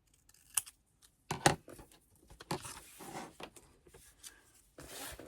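Scissors snipping paper while making a scrapbooking notebook: a handful of sharp, close cuts in an irregular rhythm, separated by short quiet gaps.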